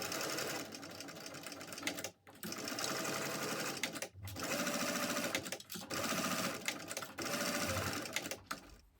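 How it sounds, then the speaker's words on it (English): A sewing machine stitches a backpack seam in fast, close mechanical bursts of whirring needle strokes, stopping briefly every couple of seconds before running again. "I'm going to sew this together with 3/8 of an inch seam allowance"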